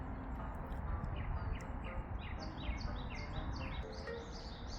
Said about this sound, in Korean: 새소리가 너무 좋네요